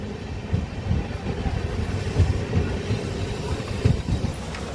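A steady, close rumble of the Satavahana Super Fast Express at Cherlapalli station in Hyderabad, with soft irregular wheel clatter throughout and no voices.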